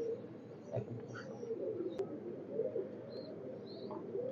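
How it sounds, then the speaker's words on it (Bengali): A breeder pair of KTM and Oman bloodline teddy pigeons cooing softly and continuously, fairly faint, with a few brief higher chirps over a low background hum. "এই কবুতরগুলো আপনার খুবই চমৎকার একটা পেয়ার"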